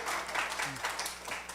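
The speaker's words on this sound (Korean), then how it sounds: "우리 박수 한번 더 쳐줄까요?" A church congregation claps for young children during a Sunday service, with soft, steady applause that fades slightly toward the end and a faint voice briefly underneath.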